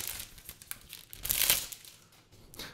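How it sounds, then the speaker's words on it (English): Protective plastic wrap being peeled off a new Apple keyboard, close and crinkly, building to a louder tearing rustle midway and then trailing off. "let's go ahead and take the plastic wrap protecting this one off"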